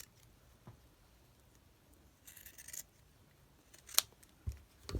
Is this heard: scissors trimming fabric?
yes